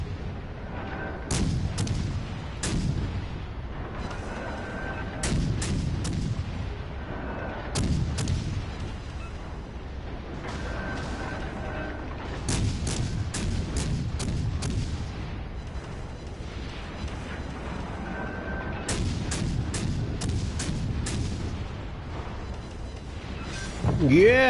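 Naval battle in a PS4 game destroying an enemy cruiser: repeated heavy booms and clusters of sharp gunshots over a steady rumbling engine and battle din, with the blasts landing in irregular volleys throughout.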